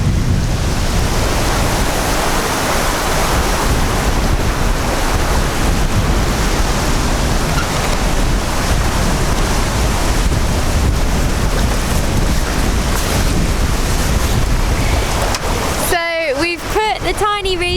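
Loud, steady wind roar mixed with rushing water and sea waves aboard a sailboat for most of the clip, with a brief pitched squeal near the end.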